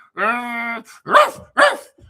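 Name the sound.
person imitating a dog bark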